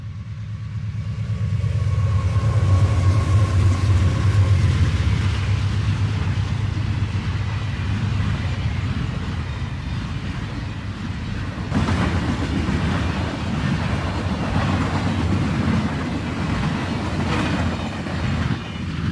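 CSX freight train L-396 rolls fast past H.O. Tower on the Magnolia Cutoff in 1992, a loud, sustained rumble of engine and wagons with rail clatter and a brief horn-like tone early on.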